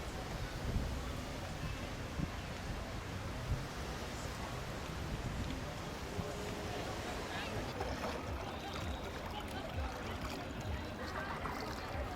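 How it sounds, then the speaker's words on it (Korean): Waves breaking on Woodbine Beach in Toronto, a steady wash of surf with wind noise, continuous and fairly even, with a voice present over the water. "여기 파도가 쳐서 저기 갈매기도 날아다니고"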